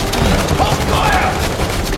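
Film soldiers open fire, a dense rattle of rapid gunshots and bangs overlapping in a continuous loud burst that fills the whole moment.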